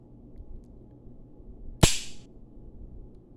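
A single sharp metallic snap from a Rock Island Armory M206 revolver as its trigger is pulled slowly and the cylinder locks, one brief close click in a quiet room.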